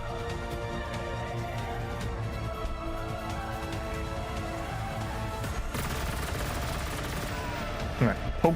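Gunfire from a Tau unit in Warhammer 40,000: Gladius, a faint, steady run of shots beneath game music and ambience, closing with a couple of sharper impacts.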